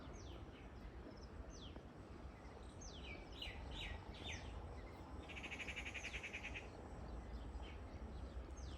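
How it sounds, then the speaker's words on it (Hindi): Birds chirp faintly around a hilltop temple near Gagarwas village, scattered short calls and trills from several directions over a steady low ambient rumble. "पक्षियों का कलरव"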